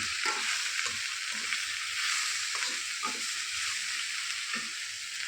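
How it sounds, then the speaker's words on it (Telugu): Okra and green chillies fry in hot oil with a steady bright sizzle, broken by soft, irregular stirring taps and scrapes in the pan. No voices are heard. "పచ్చిమిరపకాయలు బాగా ఏం చేయాలి, వేగాలి ఆయిల్లో"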